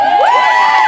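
A children's audience whooping and cheering for a cheer squad, a loud, close burst of high excited voices with no clear clapping.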